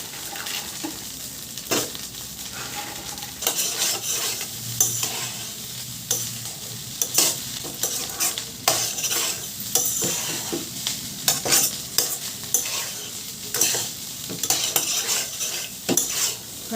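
Chicken fried rice stir-fried in a pan at home: steady sizzling under frequent scraping and clinking of a metal spatula against the pan, busy and close, with no talking.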